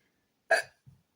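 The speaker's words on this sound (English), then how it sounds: "I have the hiccups." A single sharp hiccup from a person, close and clear, followed by a softer low catch of breath in an otherwise quiet room.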